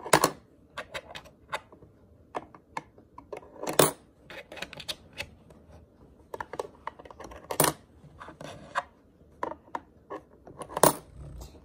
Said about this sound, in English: So here are some coins and you need to find a hole to put the money in.